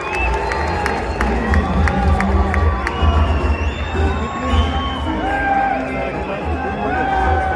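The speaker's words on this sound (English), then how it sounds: "Crowd is loving it." A large crowd of about 6,000 cheers and whoops at a ceremonial boxing weigh-in in Las Vegas, a loud, sustained roar with shouts and chatter throughout.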